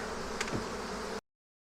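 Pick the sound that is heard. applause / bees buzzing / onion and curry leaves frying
bees buzzing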